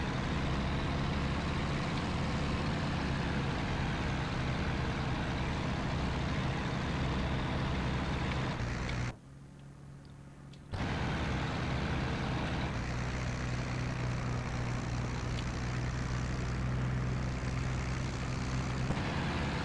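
Ju-87 dive bomber engine droning steadily during a landing approach in the IL-2 Battle of Stalingrad flight game, a loud continuous rumble that drops out briefly midway before resuming.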